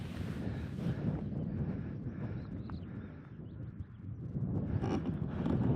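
Steady wind buffets the microphone outdoors on the Skye Trail on a sunny day, a continuous loud rumbling roar that swells slightly toward the end.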